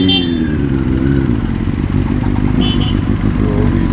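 Several bikers ride off together at a Rolling Thunder motorcycle gathering in Taunton, their engines a loud, close, continuous rumbling roar that stays steady throughout.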